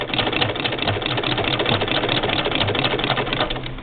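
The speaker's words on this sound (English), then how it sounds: "I'm going to get going on the treadle here." An 1891 White VS IIb treadle sewing machine stitching, a steady close mechanical whir with a fast rhythmic chatter running continuously, no voices over it.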